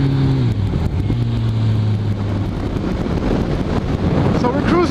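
A Kawasaki Ninja ZX14R cruising at highway speed with the rider tucked, giving a steady, loud roar of engine and rushing wind buffeting the microphone, with a rising tone near the start.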